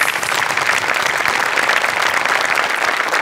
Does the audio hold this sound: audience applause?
yes